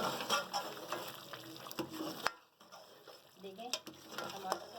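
Chicken karahi frying in a pan while being stirred, soft sizzling with intermittent scraping and clinks of a utensil against the pan, fairly faint and close.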